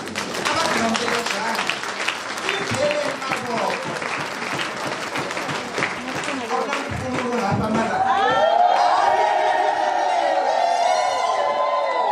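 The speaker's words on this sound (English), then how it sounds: "Give yourselves a round of an applause." A standing audience at a college Women's Day celebration claps loudly, with cheers and whoops mixed into the crowd noise, before a voice and tonal singing or ululation rise over the fading applause.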